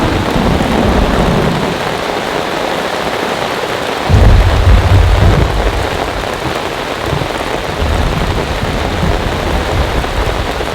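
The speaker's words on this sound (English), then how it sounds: "There's just thunder and lightning" Heavy rain pours steadily during a thunderstorm at a campsite under a tornado warning, with wind picking up. Deep rolling thunder swells loudly midway and rumbles again later beneath the constant hiss of rain.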